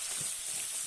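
Garlic fries in a pan with a steady, close hiss that holds unbroken through a very short moment.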